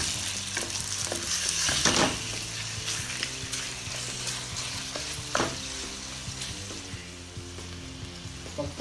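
Chicken and shrimp pancit bihon fries in a pan while being stirred, a soft continuous sizzle broken by spoon scrapes and occasional louder clatters of the utensil against the pan, close by.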